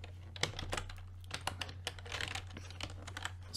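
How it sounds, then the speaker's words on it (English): Close, brisk typing on a computer keyboard, with rapid irregular clicks and key taps over a steady low hum, and no voices. "Type the word swap."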